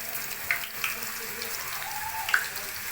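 Grated raw potato dropping into very hot oil, a steady broadband frying hiss with a few sharp crackles and pops, close and fairly loud.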